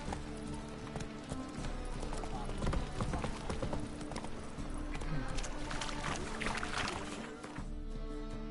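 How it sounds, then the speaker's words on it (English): Horse hooves clip-clop in The Witcher 3 as the mount is ridden, a steady trotting rhythm under game music, with someone talking over it throughout. "whoa there, Roach. Go, go."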